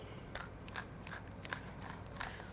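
Coarse black pepper is ground in a hand mill, a series of close crunchy, crackling twists scattered over a couple of seconds, with no talking.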